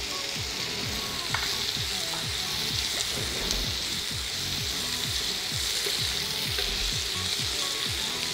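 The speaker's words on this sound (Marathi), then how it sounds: "सिमला मिरची आणि कांदा चांगला भाजून घेऊ." Chopped capsicum and onion sizzle steadily in a hot pan for besan capsicum, a constant close frying hiss broken by rhythmic scraping stirs of a spatula, with no voices.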